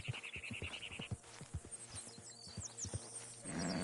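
Horse in the open-world Western game Red Dead Redemption 2: a steady run of clip-clop hoofbeats close by, joined by a neigh midway and a brief snort near the end, with no talk.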